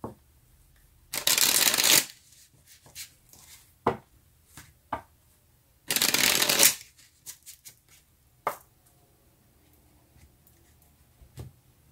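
Tarot cards are shuffled in two loud riffling bursts, each about a second long, separated by lighter taps and slaps as single cards are drawn and laid down close by in a quiet room.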